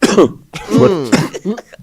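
A man coughs and clears his throat in a few rough, close bursts with short pauses between, heard alone without other talk.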